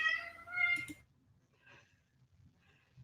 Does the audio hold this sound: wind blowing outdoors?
no